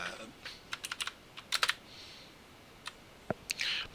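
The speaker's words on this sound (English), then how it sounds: "This is a horrible one to type in." Someone types on a slightly odd computer keyboard during network equipment setup, producing scattered clusters of quiet, close key clicks with pauses between them and a faint breath or rustle.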